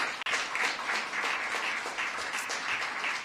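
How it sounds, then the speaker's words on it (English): A crowd applauds the mayor at the unveiling of a downtown day services center, giving a full, sustained round of clapping that stays dense and steady throughout, fairly loud and close, with no speech over it. "So let's give our mayor a round of applause."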